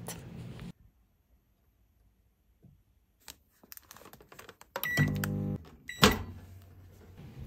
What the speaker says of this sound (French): C'est le moment de placer votre bol dans votre micro-ondes et de cuire pendant 1 minute à 750 watts.